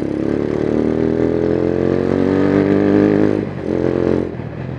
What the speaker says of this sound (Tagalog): Medyo maraming motor ngayon kasi rush hour